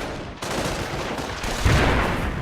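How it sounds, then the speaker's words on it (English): Mortar support fire and gunfire in a Company of Heroes 2v2 battle: a dense, continuous roar of battlefield noise that swells with a heavier, booming impact about two-thirds of the way through. "Mortar support coming in over here"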